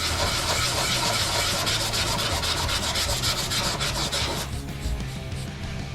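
Hand sanding paint off an Escort Cosworth rally car body gives a loud, close, steady rasping scrub that eases into lighter strokes near the end.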